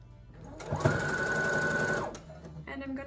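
A sewing machine stitches pieces of quilt fabric for a pinwheel block, starting up with a click and then a close, steady whirring hum for about a second and a half before stopping, with a brief voice around it.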